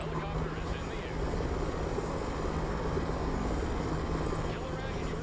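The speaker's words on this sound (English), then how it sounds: "Helicopter is in the air." A military helicopter flies in the strategy game Broken Arrow, a steady droning rotor and engine wash holding at constant loudness throughout, with radio-style voices talking over it.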